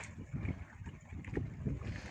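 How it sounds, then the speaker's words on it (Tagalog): Strong northeast monsoon wind at sea rushes steadily past the microphone on a small fishing boat, with low buffeting gusts and faint water noise throughout. "Sobrang lakas ng amihan."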